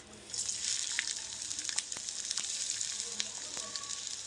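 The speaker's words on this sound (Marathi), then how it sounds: "तेल तापलं की आपण कांदा भाजायला घेऊया सगळं ते आपण कांदा टाकून घेऊया" Onions fry in plenty of hot oil for a Malvani-style chicken, a dense steady sizzle up close with scattered spatula taps over a few seconds.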